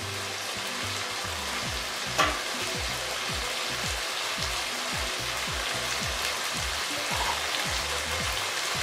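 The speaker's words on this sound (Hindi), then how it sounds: "अब आहिस्ता से इसमें घी छोड़ना शुरू कर दिया है" Ghee runs into mutton ojhri frying in a pan, giving a steady crackling sizzle over a series of repeated low thumps, with one sharp click partway through.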